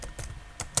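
A few quick keystrokes on a computer keyboard while Python code is being entered, four or five light, close clicks within under a second, the last one slightly sharper.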